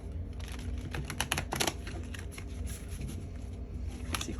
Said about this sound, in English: just going to shuffle these up.